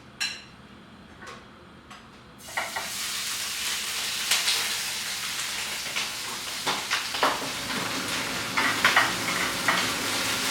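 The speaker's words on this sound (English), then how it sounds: "I have to saute this first." Food sizzles in hot oil in a pan after a quiet start, with a steady frying hiss broken by the scrape and clatter of stirring.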